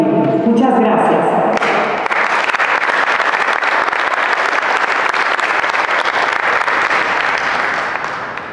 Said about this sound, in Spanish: Que se escuche ese aplauso, sí queremos.